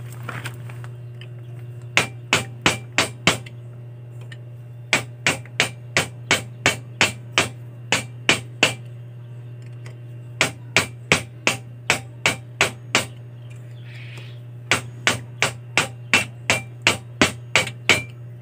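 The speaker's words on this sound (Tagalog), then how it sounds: "Gamitin ko na lang itong martilyo." Hammer strikes on a Takasago monoshock being adjusted on a Sniper Fi 150 motorcycle: crisp metallic blows in quick bursts of four to eight, close and loud, over a steady low hum, with short pauses between the bursts.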